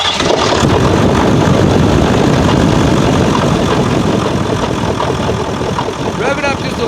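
A 2018 Nissan Titan's 5.0L Cummins diesel with a fault cranks, fires and idles, then revs, a loud, steady, close-up clatter that runs the whole time, with a brief higher whine near the end.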